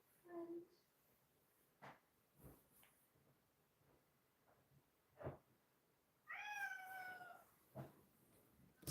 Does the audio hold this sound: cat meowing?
yes